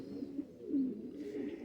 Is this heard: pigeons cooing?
yes